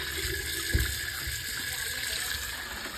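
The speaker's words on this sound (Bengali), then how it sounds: "এই মাটিগুলোকে ঘষে ঘষে ভালো করে কলের তলায় ভালো করে ধুতে হবে।" Tap water runs steadily into a sink while live crabs are scrubbed under the faucet to wash off mud, a close continuous splashing with a brief heavier splash early on.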